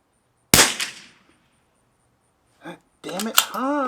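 One sharp shot from a Lithgow LA101 rifle without a suppressor, firing Eley Tenex ammunition, cracks close by and decays quickly. After a pause someone speaks briefly.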